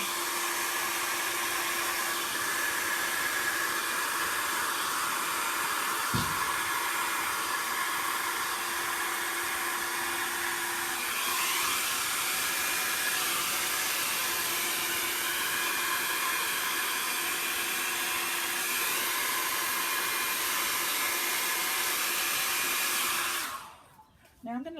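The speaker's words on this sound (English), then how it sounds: "now we're going to just blow the excess paint over." A hair dryer blows excess silver and black paint with crystals and glitter across a canvas during a Dutch pour, a loud, steady, close-up rush of air that runs unbroken for about 23 seconds before cutting off abruptly.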